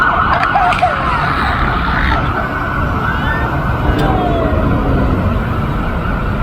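An ambulance siren wails faintly in the distance over heavy, continuous street traffic rumble on Avenida Paulista in São Paulo.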